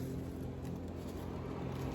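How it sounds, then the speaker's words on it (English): A boat passes by on the water, a steady low motor drone heard from a distance across open water and holding level through the whole moment. "Cool, we got a boat coming by."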